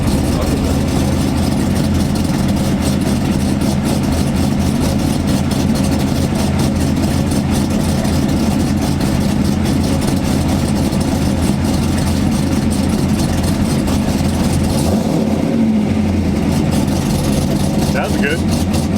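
A Corvette's LS V8 runs steadily throughout, a dense, continuous low rumble with a choppy, uneven idle character, close and loud, with faint voices in the background.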